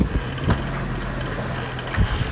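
A sailboat runs downwind at sea in 11 to 12 knots of wind during an Atlantic crossing, with a steady rush of wind and water against the hull and a few soft thumps.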